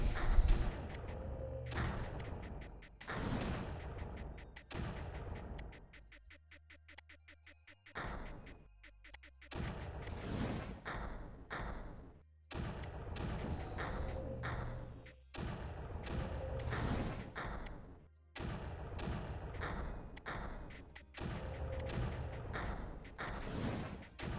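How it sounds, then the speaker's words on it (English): Mortar firing in the video game Creeper World, Odin City level: a loud run of heavy booming thumps in irregular bursts, dense and close, with a brief quieter lull partway through and no talking. "The mortar is even louder, apparently."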